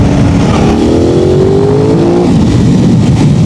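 Aprilia RS 660 motorcycle accelerating in second gear, a loud steady engine drone with rising pitch under heavy wind rush, continuous and close throughout.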